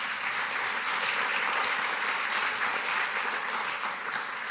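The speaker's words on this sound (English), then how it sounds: "A big round of applause." An audience applauds an award winner at a UNHCR-linked ceremony, producing a continuous, evenly loud patter of many hands clapping with no break for the whole stretch.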